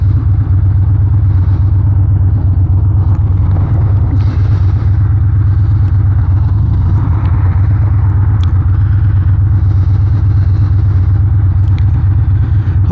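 A motorcycle riding on the road on a cloudy January day, its engine a steady, loud, close rumble with constant wind noise throughout, running alone without any talk.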